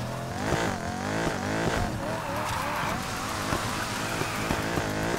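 A car drifts in the Need for Speed Heat video game, its tires squealing continuously over a steady, revving engine drone, close and sustained throughout.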